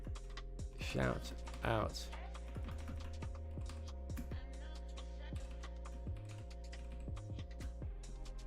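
Typing on a computer keyboard: quiet, rapid key clicks patter steadily under a low electronic hum, with people talking over it in the background.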